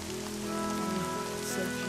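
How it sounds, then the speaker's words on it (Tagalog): Steady rain falls on a surface in an even, continuous wash, close and moderately loud, with no voices and a faint tonal hum underneath. "Yung ulan."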